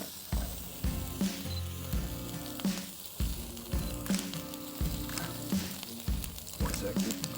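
Food frying and browning in a pan on a Maine island coast, with a steady crackling sizzle running throughout, broken by repeated soft clatters and scrapes as pieces are laid out and moved.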